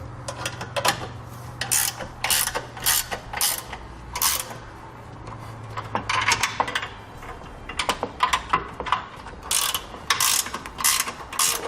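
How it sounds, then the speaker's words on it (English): A 3/4 inch ratcheting wrench tightens trailer hitch receiver bolts on a 2011 Jeep Wrangler. Bursts of rapid, crisp ratchet clicks come in short repeated runs with brief pauses between them, up close and without speech. "Now I'm going to use a 3/4 inch ratcheting wrench on this side."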